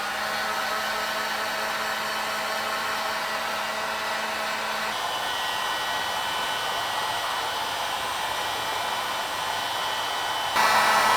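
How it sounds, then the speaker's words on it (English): A heat gun blows steadily over wood filler on a mid-century modern Stingray coffee table, a constant whooshing drone with a couple of small shifts in pitch and no voices. "Because I'm impatient, I'm using a heat gun to speed up the drying time."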